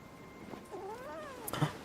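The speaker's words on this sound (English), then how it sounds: "It's a kitty cat." A cat meows in a Wuthering Waves video game cutscene, one drawn-out, wavering call rising and falling in pitch, followed by a short sharp noise near the end, clear and alone.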